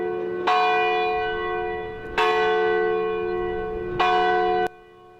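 Church bell tolling in a town at a memorial moment, three loud, ringing strikes about two seconds apart, each with a long sustained hum, heard alone.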